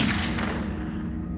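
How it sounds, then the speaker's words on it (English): A gunshot fired during a robbery reenactment, a sharp blast followed by a booming decay that trails off over about a second and a half, loud and with no speech over it. "When a gunshot was fired, they activated an interior alarm"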